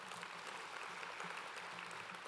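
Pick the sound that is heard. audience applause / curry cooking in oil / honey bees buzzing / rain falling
audience applause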